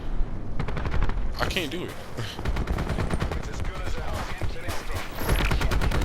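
Rapid bursts of ICR rifle gunfire in the video game Call of Duty: Black Ops 4, loud and repeated throughout, with someone briefly speaking over the shots.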